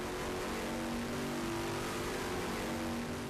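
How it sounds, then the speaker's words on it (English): A large engine producing around 3,000 horsepower roars steadily at full power, a loud continuous drone with a strong low tonal hum that holds without a break. "When the engine first runs at full power, it almost burns down the building."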